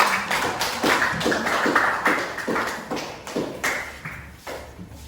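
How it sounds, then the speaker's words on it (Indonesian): A small classroom group in an Indonesian teacher-training session claps for a presenting group, a sparse, uneven patter of hand claps with distinct individual strikes, moderately close and fading slightly toward the end. "Ibu persilakan duduk dan tepuk tangan untuk"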